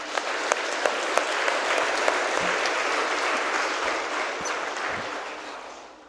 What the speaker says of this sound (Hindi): ऊपर ताली बजा दो।